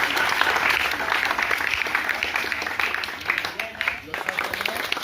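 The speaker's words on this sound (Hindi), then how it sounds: "लोगों के लिए जोरदार ताली बजाइए" Enthusiastic applause from an audience at a quiz competition event at a tutorial centre, loud and continuous clapping filling the whole stretch with a dip near the end.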